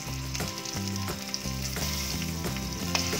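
Lentils sizzle and fry steadily in a pan for drumstick leaves chutney, close by, with a spoon occasionally stirring through the crackle.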